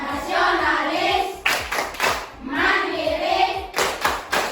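A school class claps together in a rhythmic chant pattern, with steady syncopated bursts of many hands and children's voices chanting along loudly.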